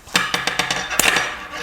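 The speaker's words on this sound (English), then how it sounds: "So I have some pliers, and what I'm going to do is I'm just going to make a cut on this end." Pliers snip the end of a wire for a homemade no-sew face mask. Several sharp, close metallic clicks come in quick succession, ending in one louder snap before a brief ringing tail.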